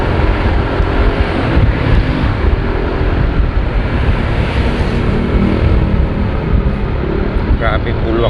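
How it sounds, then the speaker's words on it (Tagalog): Heavy road traffic on Sumulong Highway, a loud, steady roar of passing cars and engines close by that continues without a break, with a voice speaking over the noise. "Grabe, bulwak ng sasakyan dyan."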